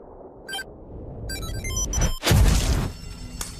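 A lighter-shaped bomb blows up in front of henchmen's faces in an action film, a sudden heavy blast with a crashing burst after brief clicks and metallic tones, then a quick decay.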